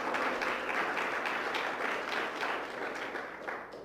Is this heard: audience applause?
yes